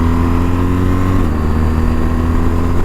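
A BMW GS motorcycle engine pulling hard at low revs: a steady, loud, throaty drone that rises slightly in pitch as the bike accelerates, with no talking.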